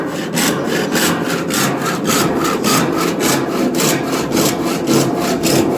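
A hand saw cuts through wood in quick, even back-and-forth strokes, loud and close, with a steady rasping rhythm and no talk.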